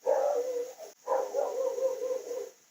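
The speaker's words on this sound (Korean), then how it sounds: "멍멍이가 자꾸 짖어가지고" A dog barks in two long bursts, the first cut off abruptly and the second following after a brief gap, fairly close and clear, with no talk over them.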